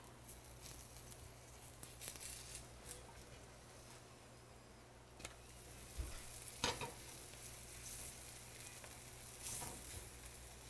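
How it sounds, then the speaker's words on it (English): A paratha cooks in ghee on a pan with a quiet, continuous sizzle. Light scraping strokes and a few sharper taps are heard close by, and no one speaks. "just see this beautiful Parantha cooking, happy"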